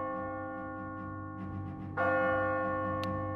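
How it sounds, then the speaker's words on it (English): A bell in the video game Catherine tolls with a sustained metallic ring, swelling into a louder strike partway through and leaving a long humming resonance, with no talking. "As you near the top, you will hear a bell ringing."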